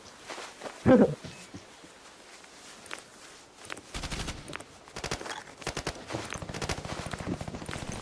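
Bursts of gunfire in the video game Arena Breakout, from single shots to rapid volleys including an M4, with footsteps and clatter around them, moderately loud and continuing throughout.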